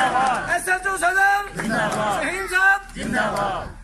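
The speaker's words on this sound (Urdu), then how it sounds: "مقامی افراد کی جانب سے پنجاب پولیس زندہ باد کے نعرے بھی لگائے گئے" A local crowd in Bahawalnagar chants slogans in support of the Punjab Police, loud, close call-and-response shouts rising in several bursts with overlapping voices.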